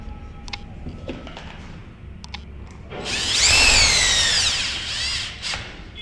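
A power drill drives a trim screw while a lockset is installed, first a few light clicks and taps, then a loud rising whir for about two seconds that tapers off.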